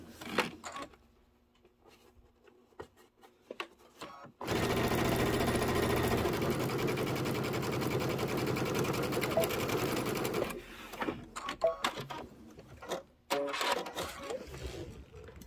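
A sewing machine pieces a quilt top in one sustained, loud run of about six seconds, framed by fabric handling, clicks and small knocks before and after.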